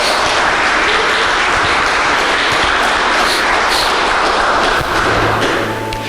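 Congregation at a church service applauding together, a dense sustained wash of clapping at steady loudness with scattered thumps, tapering slightly at the end.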